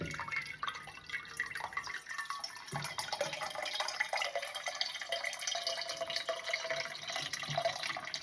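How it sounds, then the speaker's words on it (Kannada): Water running from a kitchen tap in the early morning, a steady, close, broadband splashing rush that fills the whole stretch without a pause and with no voices over it. "ನೀರು ಬಿಟ್ಕೊಳ್ಳೋದು ಇಲ್ಲಿ ಸೌಂಡು ಗೊತ್ತಾಗುತ್ತೆ."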